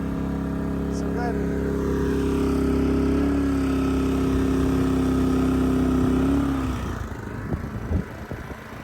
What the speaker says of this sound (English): Good little generator.